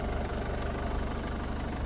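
An M95 tractor engine runs steadily on a farm, giving a continuous low, throbbing drone that sounds close and fairly loud, with no voices over it.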